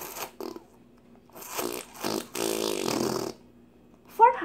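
Slime putty toy squeezed to make fart noises, a few squelchy bursts including one longer spluttering one, close up and mostly without speech.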